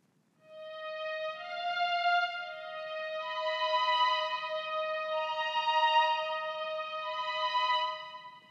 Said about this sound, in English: I put that on the violin.